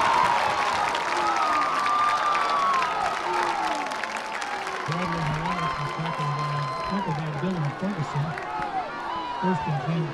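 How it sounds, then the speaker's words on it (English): A loud crowd of Panthers fans cheers at a high school football game, a sustained roar of shouts and whistles with a commentator talking over it throughout. "this Panthers crowd is loud"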